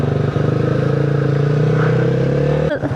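A motorbike engine hums steadily on a mountain road near Keokradong, close and fairly loud, then cuts off abruptly into a brief jolt near the end.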